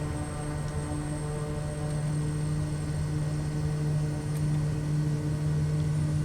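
A Kodiak 100 turboprop aircraft engine runs up to power before takeoff, a steady, loud, continuous drone with a strong low hum and even tonal whine throughout, with no voices.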